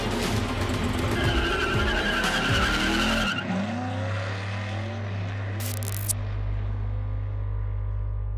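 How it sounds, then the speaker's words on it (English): A race car roars around Pikes Peak International Raceway with tires skidding and squealing, its engine loud and close before the sound drops into a steady lower drone as it moves on. "He drove a race car around Pikes Peak International Raceway this afternoon with his mind."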